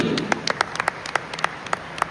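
Audience giving a big round of applause for mentor Ravindra at a diamond celebration event, sparse distinct claps ringing out irregularly, fairly close and clear, with no talking.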